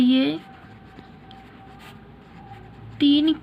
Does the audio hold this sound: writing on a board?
yes